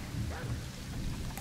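Rain and thunder in the Planet Zoo game, a steady low rumble with a wash of falling rain, continuous and moderately loud with no talking.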